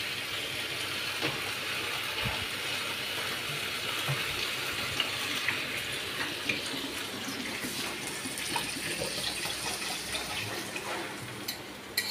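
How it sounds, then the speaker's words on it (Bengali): Water poured into a pan of sautéed jackfruit curry makes a steady rushing splash and gurgle that continues without a break, close and even in level, with no speech. "আর বেশি কষবো না, পানি দিয়ে দিচ্ছি।"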